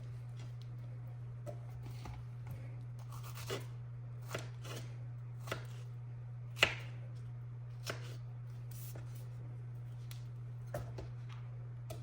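Strawberries are diced with a knife on a board: soft, irregular chopping taps spread over several seconds, one louder thunk in the middle, with a constant low hum underneath and no voices.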